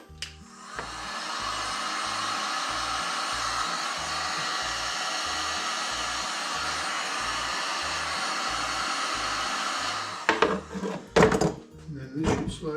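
A heat gun blows hot air onto shop air line tubing being fitted with a crimp ring, a steady close whooshing roar lasting about ten seconds before clicking off, followed by a few handling knocks and thumps.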